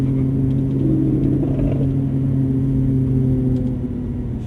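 A Lamborghini Aventador drives on a race track, its engine holding a steady, loud, low rumble close to the microphone, with no talk and no change in pace.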